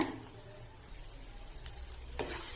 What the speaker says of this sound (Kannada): ಇನ್ನೊಂದು 5 ನಿಮಿಷ ಮೀಡಿಯಂ ಉರಿನಲ್ಲಿ ಫ್ರೈ ಮಾಡೋಣ.